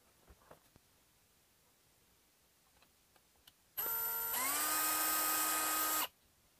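After a quiet stretch, a small electric screwdriver backs screws out of a HeimVision smart video doorbell unit, giving one high, steady motor whine that lasts about two seconds.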